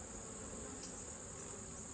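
Honey bees buzzing around an opened hive, a steady faint high-pitched drone with a continuous hissy wash, no talk.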